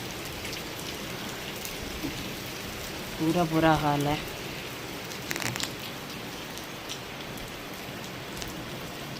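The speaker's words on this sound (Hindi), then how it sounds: "देखिए कितनी तेज़ बारिश पड़ रही है, बहुत तेज़ वाली एकदम से बारिश आई है" Heavy rain pours down in a sudden downpour, a dense steady hiss close around, with a short spoken phrase briefly over it.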